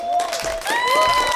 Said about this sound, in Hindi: वाओ, तालियां.